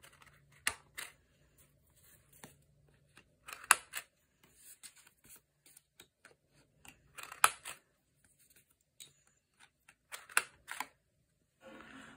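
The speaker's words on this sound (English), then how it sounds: "chop corners with the corner chomper around the edges" A corner chomper punch rounds paper corners at a quarter inch radius, giving sharp, close crunching snaps in a loose irregular series, with quiet handling between them.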